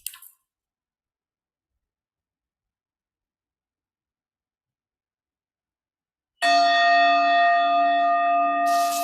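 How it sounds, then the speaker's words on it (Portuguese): A meditation bell is struck once and rings on alone with a sustained, slowly fading tone after a long stretch of silence. "Deixe que o som do sino seja um sinal para você relaxar."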